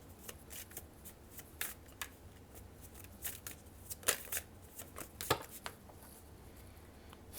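A deck of playing cards being shuffled for a tarot-style reading, with cards popping loose. Soft riffling, flicking snaps and sharp card clicks come in an irregular patter close by, and no one speaks.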